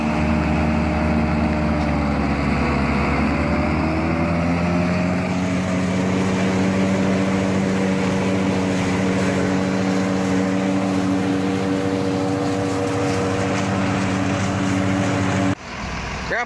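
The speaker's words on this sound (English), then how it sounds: "I'll put some videos in right now of us filling that up, two roll corn chopper." A two-roll corn chopper runs on a farm while filling a big silo with corn silage. A loud, continuous mechanical engine drone shifts in pitch and holds steady for many seconds, then drops in level near the end. No one talks.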